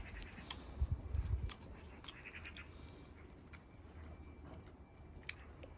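Faint close-up chewing of Parthian chicken with lovage and asafoetida, a few soft crunchy bites clustered early, then quieter intermittent mouth sounds against a hushed room.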